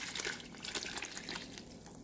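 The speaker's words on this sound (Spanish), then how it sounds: "ahora los vamos a bañar con la mezcla que acabamos de preparar" Vinegar mixture poured over chiles güeros, a soft continuous liquid splash and trickle with small drips, steady and close for about two seconds, with no voices.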